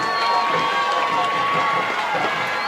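Crowd at a 2009 high school football game, Forest versus Hazelhurst, cheering and shouting in a steady, dense roar that stays loud throughout, with no quiet gaps.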